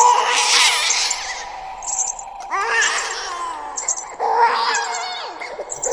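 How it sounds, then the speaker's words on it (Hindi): A baby wails in long, rising cries, three bursts in a row, loud and close with short breaths between. "बच्चे के रोने की आवाज़ शांत हो गई"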